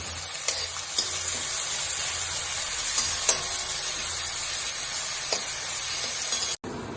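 Capsicum and mixed vegetables fry with salt in a pan for vegetable avalakki, a steady close sizzle with light stirring scrapes throughout and no talking.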